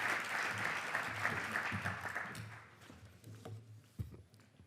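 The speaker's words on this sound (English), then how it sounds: "please give her a big round of applause" A conference audience applauds at a space-economy congress, a dense round of clapping that thins out and fades over a few seconds, ending with a single louder knock.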